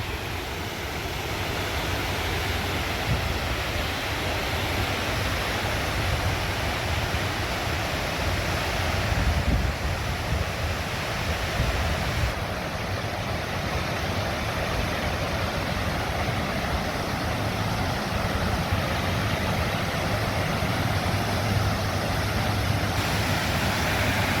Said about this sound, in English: This is the waterfalls that we can hear from our home.